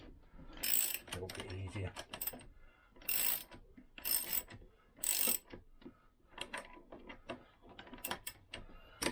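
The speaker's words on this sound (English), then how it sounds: "Should now pull the crankshaft through. I can hold the crankshaft the other side anyway, stop it turning. Yeah, that's pulling through." Lambretta scooter crankshaft drawn through its engine bearing with a puller, giving rough grinding, ratcheting bursts in several close pulses, with a brief spoken remark among them.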